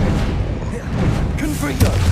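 Incendio fire spell cast in the video game Hogwarts Legacy, a steady roaring whoosh of flame with low rumbling bursts and a heavier thump near the end, heard alongside a voice.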